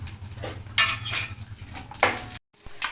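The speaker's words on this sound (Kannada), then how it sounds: "ಇಲ್ಲಿ ಸ್ವಲ್ಪ ಗೋಡಂಬಿ ಗೋಡಂಬಿ ಬಾದಾಮಿ ಮತ್ತು ಇಲ್ಲಿ ಸ್ವಲ್ಪ ದ್ರಾಕ್ಷಿ ಹಾಕ್ಬಿಟ್ಟು ಫ್ರೈ ಮಾಡೋಣ" Cashews, almonds and raisins frying in ghee for sweet laddus, a soft sizzle broken by metal spoon stirring and clinks against the pan, with a brief silent gap near the end.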